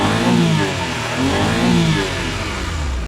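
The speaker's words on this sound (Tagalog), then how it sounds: "Ganda ng andar ng makina natin" A home-assembled budget mini van's engine runs close by, revving in repeated rising and falling surges with a steady mid-pitched drone between, loud and alone with no talk.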